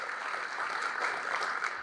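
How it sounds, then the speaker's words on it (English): An audience at a Long Beach civic event applauds investors and developers, producing a steady, even wash of many hands clapping at a moderate distance for the whole moment. "round of applause."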